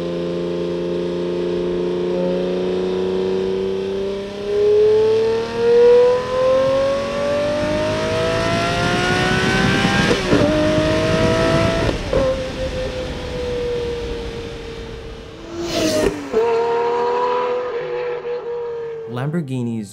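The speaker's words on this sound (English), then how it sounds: "You wait a little bit and then you give it that last click and then you hear that engine just fire up." A Lamborghini Murcielago V12 engine fires up and revs, its rising and falling engine tones heard close and loud, with a sharp blip near the end, while someone talks over much of it.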